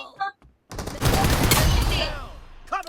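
A burst of rapid gunfire in the video game PUBG, loud and dense for about a second before tailing off, with voices talking briefly before and after it.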